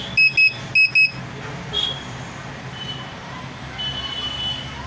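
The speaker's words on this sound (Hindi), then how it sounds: "देखिए देखिए बीप साउंड देता है ऐसा" A Luminous Hercules 1600 inverter running on battery with a beep fault gives four sharp, loud electronic beeps in two quick pairs at the start, followed by low background hum and faint noise.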